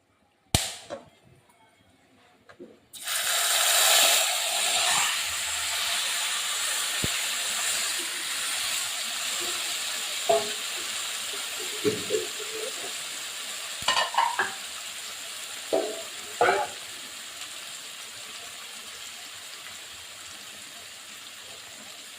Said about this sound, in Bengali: অল্প একটু গরম মশলা ফোড়ন দিলাম এখন আমি মাংসটা দিয়ে দেবো